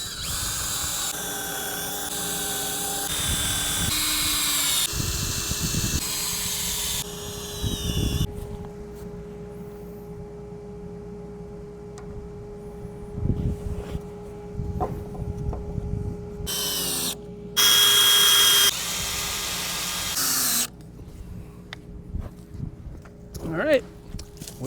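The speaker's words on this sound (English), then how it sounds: "So I'm gonna go ahead and pre-drill again" A power drill bores pilot holes in pressure-treated lumber for a wheeled chicken coop, sounding in several loud whirring bursts of a few seconds each, separated by quieter stretches of handling noise and talk.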